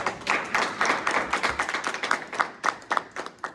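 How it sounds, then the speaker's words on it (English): Small group at a student government budget hearing giving a short round of applause, sparse distinct claps with an uneven, pattering rhythm, fairly close and not very loud. "Can we please give a round of applause?"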